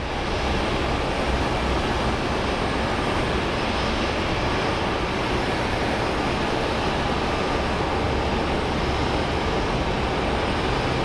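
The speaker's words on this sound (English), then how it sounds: "One more plane." An airplane at Phoenix Sky Harbor airport produces a loud, steady, broadband jet engine roar that holds constant throughout, with no voices.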